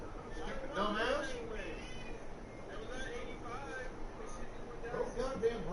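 A cat meowing repeatedly at close range while someone talks over it, the cries rising and falling under his voice.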